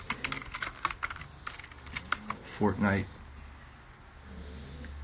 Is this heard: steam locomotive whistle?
no